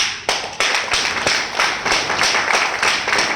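Audience clapping at a business opportunity presentation, with sharp, loud claps close by and a few stronger bursts rising above a steady wash of hands, and no one speaking over it.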